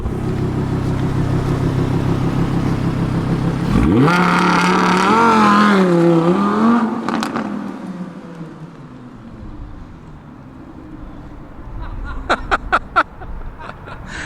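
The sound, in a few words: Audi R8 V10 Plus accelerating hard from launch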